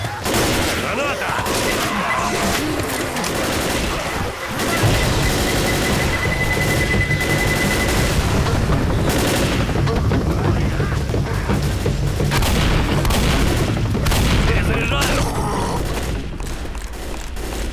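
Dense, continuous gunfire and booming grenade blasts fill a fight in the video game Left 4 Dead, loud and relentless throughout, with a voice shouting over the chaos.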